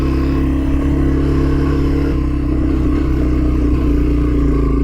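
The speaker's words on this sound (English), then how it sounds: "Driving through some snow." A vehicle drives through snow with a steady, loud, low engine drone and continuous road rumble, close and unbroken for the whole stretch.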